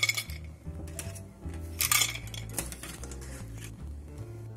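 Freshly steamed clams are dropped from a strainer onto a plate meant for steamed eggs, giving light clinks and rattles of shell on ceramic over soft background music.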